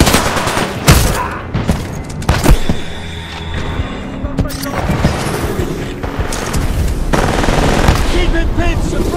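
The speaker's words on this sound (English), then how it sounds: "Suppressing fire!" Sustained automatic gunfire and explosive booms from the sci-fi shooter Titanfall 2, with dense bursts and heavy thuds rolling through a loud battle mix and occasional shouted voices.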